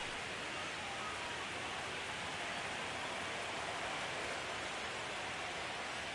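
Rain falling on a baseball field during an ALDS playoff game against the Seattle Mariners, a steady, even hiss that stays faint and unbroken throughout.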